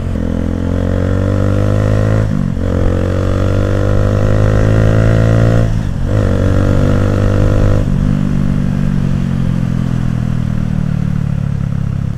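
A 2010 Minerva R150 VX motorcycle engine held high in fifth gear while riding, a loud continuous drone with rising pitch and a few brief dips in revs, heard close from the rider's position.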